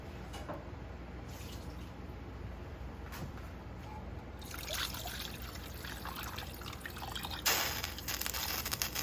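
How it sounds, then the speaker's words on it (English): Water is poured into a cooking pot of giblets for Southern cornbread dressing, a steady splashing trickle under soft kitchen hiss that swells louder partway through, with no talking. "So I'll go ahead and cover this up with water."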